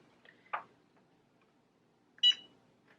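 An Easy Press heat press gives two short electronic beeps while its timer is being set, close by and spaced about two seconds apart in an otherwise quiet room.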